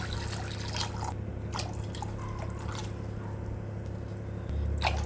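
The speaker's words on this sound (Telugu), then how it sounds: "ఇక్కడైతే నేను నీళ్ళు పోస్తున్నాను సరిపడా నీళ్ళు పోస్తున్నాను" Water trickles and drips steadily into a pot of rice and dal for pongal, soft and close, with a few brief clinks and splashes along the way.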